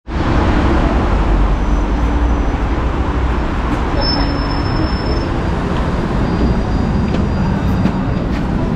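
City bus number 2 pulls up as a loud, steady roar of engine and street traffic, a dense continuous rumble close by, with a brief thin squeal partway through.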